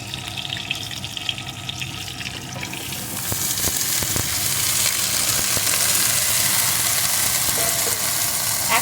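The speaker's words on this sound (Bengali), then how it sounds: "এখন পুঁশাকটাও কিছুক্ষণ নাড়িয়ে রান্না করে নেব" Malabar spinach stir-fries with chopped tomato and crab in a hot pan, giving a steady loud sizzle that swells after a few seconds, with scraping stirs and clatter throughout.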